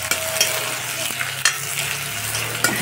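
Onion and garlic fry on a high flame, a steady close sizzle with a few sharp stir clicks and scrapes scattered through it, no voices.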